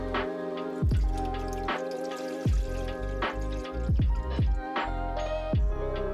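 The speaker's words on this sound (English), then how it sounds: "So what I'm gonna do is pour in some water." Water pours into a Vevor magnetic tumbler, loud and close, with a run of resonant glugging, dripping splashes that rise in pitch as the container fills.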